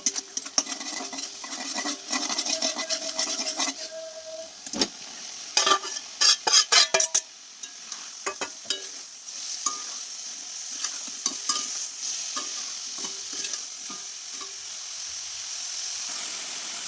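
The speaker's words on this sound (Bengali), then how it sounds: "এর মধ্যে এবার আমি এই যে ভেজে রাখা আলু ফুলকপি এগুলোকে দিয়ে দেবো, দিয়ে একটু মাখাবো" Fried potato and cauliflower pieces stirred into sizzling spices in a pan, steady hissing sizzle throughout with a rapid cluster of spatula scrapes and knocks near the middle, then softer stirring.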